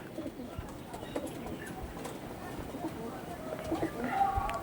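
Pigeons of fine quality, including a deep-eyed male, coo softly and repeatedly over a busy, noisy background, with murmuring voices nearby.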